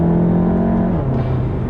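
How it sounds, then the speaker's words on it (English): Tuned car engine with an aftermarket intake revs hard, a loud steady drone that drops in pitch partway through as the revs fall, heard alone and close. "the intake's more just there for sound, but you get some pretty great sounds with that"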